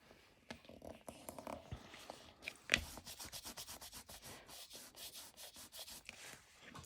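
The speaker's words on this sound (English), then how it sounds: "Get to rub her face" Soft rhythmic rubbing on the face of a handmade craft figure being re-glued in a studio, a steady run of quick brushing strokes after a few scattered knocks, close and quiet.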